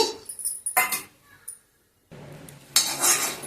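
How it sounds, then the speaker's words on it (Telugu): Peanuts rattle and clatter in a pan as they are roasted, in close, loud bursts of scraping and shaking with a short silent gap in the middle before the rattling resumes. "పల్లీలను వేయించుకోవాలండి"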